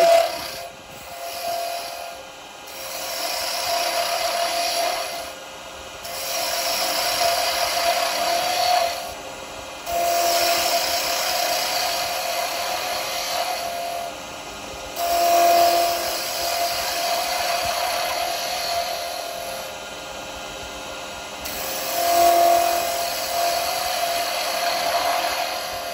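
Wood being turned on a lathe into a Christmas tree shape, giving a steady hissing whir with a high constant whine, broken by repeated gentle cuts that rise and fall in short passes.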